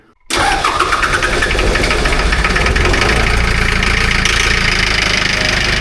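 A 3-cylinder glow-plug diesel engine on an amphibious ATV starts after a brief quiet moment, then runs steadily and loudly at close range with a rough, knocking idle throughout.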